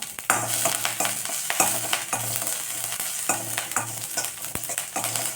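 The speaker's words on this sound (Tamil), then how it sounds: "உளுத்த பருப்பு கொஞ்சம் சவப்பான உடனே பச்சை மிளகா கொஞ்சம் ஒரே ஒரு பச்சை மிளகா சின்ன சின்னதாக கட் பண்ணி சேர்த்துருக்கேன்" Urad dal and chopped green chili fry in hot oil in a pan for tempering, a close crackling sizzle broken by frequent sharp spoon scrapes and knocks in an uneven stirring rhythm.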